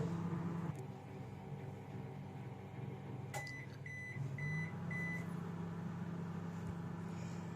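IFB microwave oven preheating in convection mode at 180 degrees, a low steady hum with a short run of beeps partway through, quiet and close with no talk.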